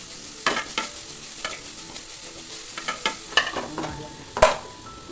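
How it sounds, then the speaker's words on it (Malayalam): Salted onions softening in a pan for egg biryani, with faint, scattered spatula scrapes and clinks over a low, quiet sizzle and one sharper knock near the end. "അതിൽ ഉള്ളി നല്ലോണം വാട്ടാൻ പോകുകയാണ്"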